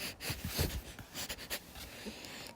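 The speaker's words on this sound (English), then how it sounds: "I close my eyes and sniff loudly." A person sniffing loudly, with several sharp, breathy intakes through the nose in quick succession, close and fairly clear against a quiet background.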